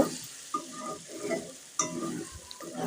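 Potatoes and spices being stirred and fried together in a pan for chicken curry, with a steady soft sizzle and repeated scraping strokes of a spoon, including a couple of sharper clinks against the pan.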